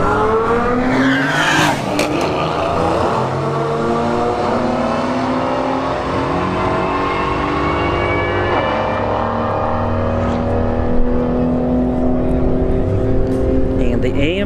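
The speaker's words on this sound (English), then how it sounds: "All right, AMG C63S in the left lane, the Audi S4 in the right lane." Two cars, a Mercedes-AMG C63S and an Audi S4, launch side by side in a drag race at a motorsports park, engines roaring loudly and rising through gears with brief tire noise, under continuous crowd and announcer chatter.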